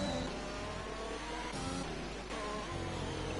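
A racing car in a racing game drives down the main straight of a Brazil circuit, its engine a loud, sustained, close drone whose pitch shifts as it accelerates and changes gear, with no voices.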